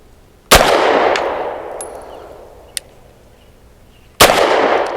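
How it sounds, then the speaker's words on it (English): Two loud, sharp pistol shots from an FB Radom Vis 100 M1 firing Winchester white box ammunition, the first a double-action pull, spaced several seconds apart, each with a long ringing decay and a small click between them. "5 rounds of Winchester white box, starting off double action first pull."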